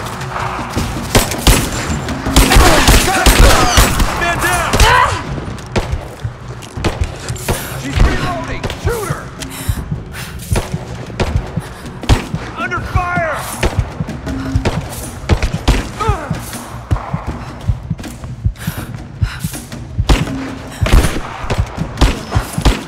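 Bursts of video game gunfire from Rise of the Tomb Raider, with rapid automatic volleys and scattered single shots crackling loudly and irregularly across a firefight, mixed with voices and impacts.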